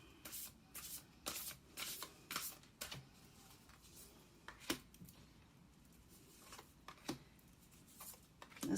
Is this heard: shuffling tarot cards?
yes